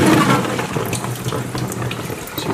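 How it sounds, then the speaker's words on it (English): Garden greens are washed under running water, a steady broadband splashing and gushing from a tap into a sink, close and continuous with no talk. "See the water coming out?"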